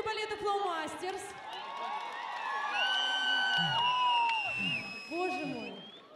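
Audience cheering, whooping and shouting for the Flow Masters ballet at a Miners' Day 2013 celebration, a dense, lively crowd with high whistles and yells sustained throughout.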